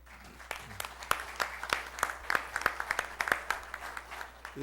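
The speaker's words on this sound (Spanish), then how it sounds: "Los aplausos para él." An audience at a formal accountants' professional association event applauds a presenter, a steady round of clapping at moderate distance lasting several seconds.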